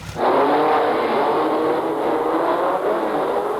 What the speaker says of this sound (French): Et au tour suivant, les Simca 1000 attaquent.